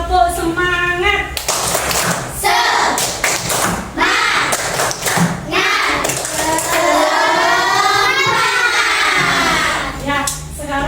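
A school class does rhythmic spirit clapping, sharp patterned claps and desk thumps coming in bursts, loud and close, mixed with children's voices and a teacher talking.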